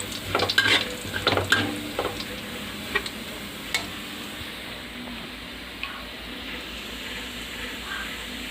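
Pork sautéing in a pan for Filipino dinuguan, stirred with a utensil: busy scraping and soft sizzling for the first two seconds, then a quieter, steady frying hiss with occasional taps, close up and without talk.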